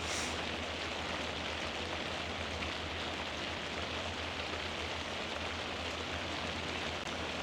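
Steady, dense rain pours on a hot tent shack, a continuous even hiss of drops drumming on the roof and walls with no pauses and no talking.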